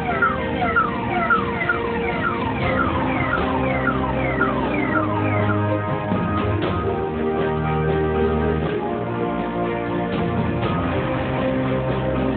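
A loud wailing ambulance siren sweeps up and down repeatedly, close by, over the low rumble of traffic and engines.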